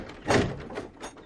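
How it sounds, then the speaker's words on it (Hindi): An ashram door is shut as a dramatized effect, giving one fairly loud thud followed by a softer knock and a rattle, close and with no voices. "अरमान ने आश्रम का दरवाजा बंद कर दिया"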